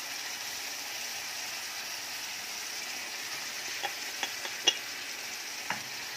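Meat drops into a pan of fried onions and sizzles with a steady hiss, with a few sharp clinks of a spoon stirring near the end.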